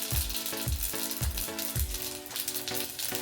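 Mustard seeds and cumin crackling in hot oil in a pan, with steady sizzling and a run of sharp popping bursts that come roughly every half second before settling into a denser fizz.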